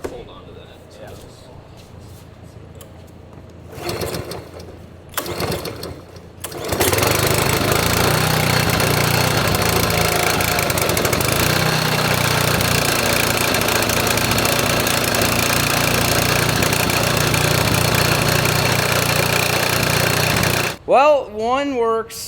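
A gas engine driving a pump to drain a large lake starts after some brief talk and handling noises, then runs loud and steady with a knocking, lawnmower-like drone before cutting off near the end.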